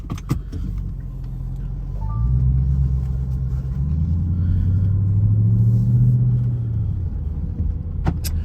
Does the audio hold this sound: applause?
no